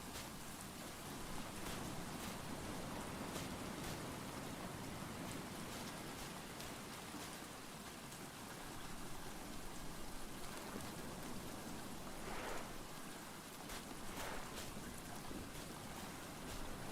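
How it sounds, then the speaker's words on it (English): Steady rain falls in the survival video game Stranded Deep, a dense, even hiss of drops that holds at the same level throughout with no voices over it. "I think we actually have rain."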